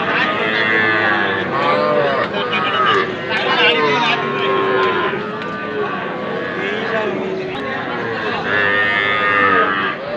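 Young bull calves and cattle, including deshi and Sahiwal breeds, moo repeatedly and loudly at the Ambari livestock haat in Bangladesh, with drawn-out calls overlapping a busy crowd of talking voices.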